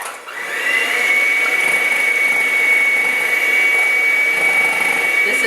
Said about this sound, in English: I'm going to put this into a mixing bowl and working up to high speed, get it up till it's nice and frothy